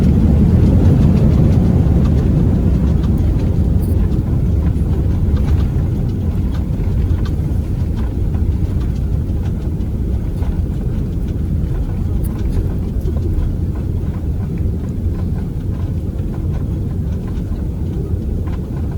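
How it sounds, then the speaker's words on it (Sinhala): Inside an airliner cabin during landing, a loud, steady low roar of engines and rolling wheels with rumbling vibration continues throughout, easing only slightly as the plane brakes and slows. "ඉක්මනට බ්‍රේක් ගහලා ප්ලේන් එකේ ස්පීඩ් එක ස්ලෝ ඩවුන් කරන්නේ"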